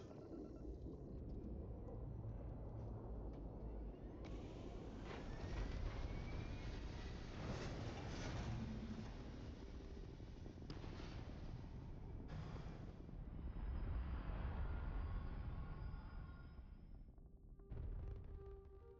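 A Gozanti Cruiser spaceship lifts off in a video game, a loud sustained roar of thrusters with rushing noise and shifting tones that swells and surges for many seconds before cutting off sharply.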